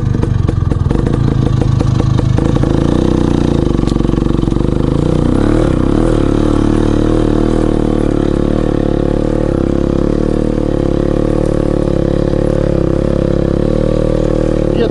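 An IZh motorcycle engine runs steadily and loudly up close while riding over grass along a forest path, with a constant mid-pitched drone and some rattling clatter early on.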